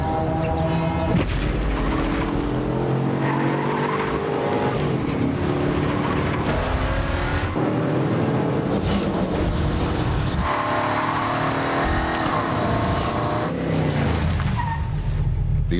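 A BMW X5 seven-seat SUV driving in a television commercial, loud engine roar and passing rushes mixed with dense music and booming effects that fill the whole stretch without a break.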